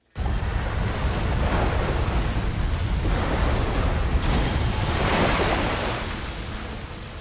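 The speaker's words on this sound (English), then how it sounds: "For a period of nearly 10 minutes, multiple waves batter the inside of the cavern." Waves batter the inside of a sea cavern during a storm in a continuous loud roar of surging and crashing water that swells and falls, with wind noise, heard alone without talk.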